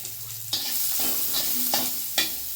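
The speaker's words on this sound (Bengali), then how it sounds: "এই সামান্য পেঁয়াজটা খালি একটুখানি তেলে নেবো" Onion frying in a little oil with black cumin (kalo jeera), a continuous close sizzle punctuated by several sharp stirring scrapes and clinks, with no one talking.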